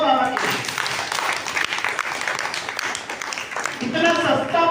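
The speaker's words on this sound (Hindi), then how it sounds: "तालियां तो बजाओ बाबा के लिए।" An audience at a Brahma Kumaris spiritual gathering bursts into a dense wash of clapping after someone speaking over a sound system calls for it; his voice is heard just before and as the applause fades.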